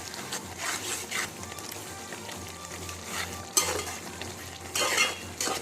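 Gongora mutton curry with masala powder being stirred in a pan, close spoon scrapes and soft sizzling, with a couple of louder clanks against the pot, no talking.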